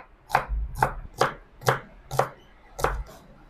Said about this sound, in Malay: Mak Su nak iris kacang panjang pula